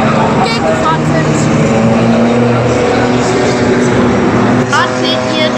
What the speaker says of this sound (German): Die Autos sind sehr laut.